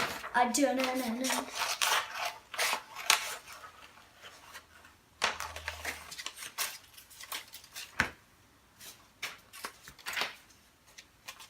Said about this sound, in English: now let's get the scissors